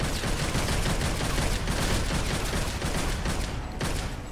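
Rapid pistol fire in Devil May Cry 5 crackles in a dense, continuous burst of shots, loud and close, with no voices over it.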